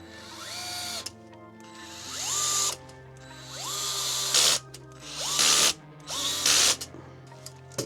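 A small electric screwdriver drives screws while fitting the shift servo on a Tamiya Volvo FH16 8x4 tow truck model kit. About six short whirring bursts rise in pitch, separated by brief pauses, up close and clear.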